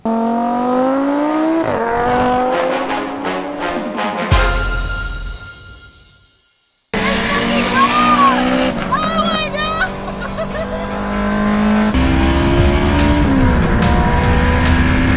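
A car pulls away hard with the engine revving loud and close through rising gear pulls, cutting out briefly before roaring again, with people talking and exclaiming over it.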